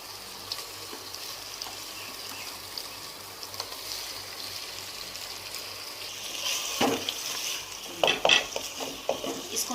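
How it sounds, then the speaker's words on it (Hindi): Chicken pieces frying in a karahi with crushed spices, stirred with a utensil that scrapes and clinks against the pan; a steady low sizzle runs throughout, with louder stirring bursts near the end. "अब मैं इसमें डालती हूँ चिकन।"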